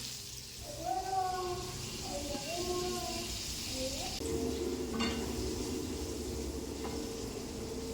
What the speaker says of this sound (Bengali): এখন করাতে ফ্রাই হচ্ছে কেপসি স্টাইল ক্রিস্পি চিকেন